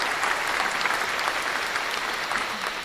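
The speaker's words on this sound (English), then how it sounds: "Round of applause." A dense, even round of audience clapping runs unbroken for a few seconds, loud and close, with no voices over it.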